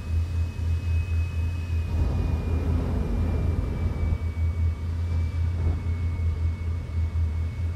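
Aurora spaceship engine in the video game Star Citizen, a steady loud low rumble and hum with a faint thin whine running over it, continuous for the whole stretch with no talking.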